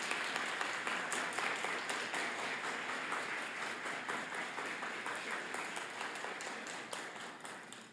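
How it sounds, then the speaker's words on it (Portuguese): At a night service of the 2022 Festa de Santo Inácio de Loyola, a religious festival, the audience applauds in a sustained, even roar of many clapping hands that tapers slightly at the close. "pode aplaudir para valer a palavra do Senhor nesta noite"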